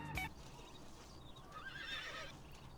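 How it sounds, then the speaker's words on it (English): Horse in the video game Sekiro giving a loud whinny and neigh with a sharp onset, trailing into lighter calls, with faint hoof clip-clop underneath. "Fucking horses, man."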